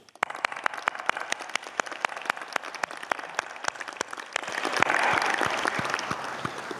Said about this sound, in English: Please honour them with your applause